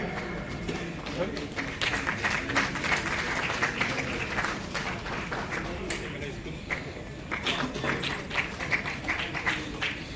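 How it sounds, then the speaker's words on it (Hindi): Audience applause in a hall at an award ceremony where medals and certificates are presented to top students, sustained clapping throughout with a speaker's voice over it. "जोरदार तालियां भाई, पूरे सदन से तालियां होनी।"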